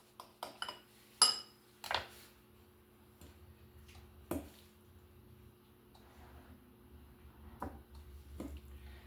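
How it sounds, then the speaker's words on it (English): A small knife cutting up broccoli on a board, a handful of sharp, scattered taps and clicks spread unevenly over a quiet background, with a low hum underneath. "get me a little knife. Cut up one of these broccolis"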